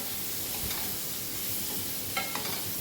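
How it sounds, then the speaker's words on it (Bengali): Potatoes frying in a pan while being stirred give a steady, close sizzle with occasional scraping and stirring clatter, and no voices over it. "দেখুন অনবরত কিন্তু নাড়তে হবে, নেড়ে নিয়ে এটাকে একটু ভাজা ভাজা মতো করে নিতে হবে।"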